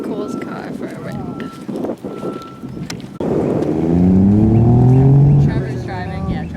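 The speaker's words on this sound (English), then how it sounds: "Trevor's gonna take Nicole's car for a rip" A car with a swapped-in Toyota 1JZ engine and 550cc injectors pulls away, engine note rising loudly and holding strong before easing off, with wind noise and people talking over the first half.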